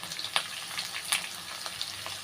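Onion and sliced green chillies sauté in a hot pan for a Tamil-style egg white kurma, a steady close sizzle with a few sharper crackles and stir scrapes, no voices.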